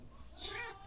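A short, faint meow, a single quick cat call over quiet background noise.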